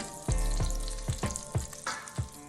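Hamburger steak patties frying in a pan give a loud, close sizzle, with several sharp crackling pops over a steady hiss.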